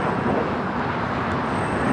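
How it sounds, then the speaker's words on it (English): Broad, roaring jet noise of a Cessna Citation Latitude business jet taking off at LAX, loud and steady throughout without voices. "That is a Cessna Citation, latitude taking off, NetJets"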